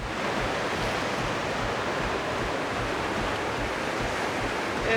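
Ocean waves breaking on a Pacific beach, a steady, loud wash of surf that fills the whole stretch without pause and with no voices.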